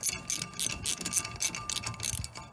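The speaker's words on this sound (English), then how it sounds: "So again, it's a little Torx screw there, just to remove that." A small Torx screw holding a car's brake disc is undone with a ratchet, giving a run of quick, close, dry metallic clicks in short irregular bursts.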